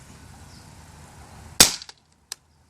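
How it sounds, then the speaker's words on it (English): A CZ 75 P-07 pistol fires with one sharp, loud snap after quiet room tone, followed by a short rattle and a small metallic click about a second later. "Now you have to pull it back, and it gets to a point right there where now it's gonna shoot."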